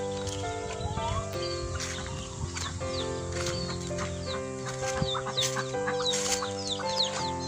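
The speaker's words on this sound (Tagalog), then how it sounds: "Yung mga manok naman dito." Several chickens cluck and call in a busy farmyard, with a steady background of mixed animal and ambient noise throughout.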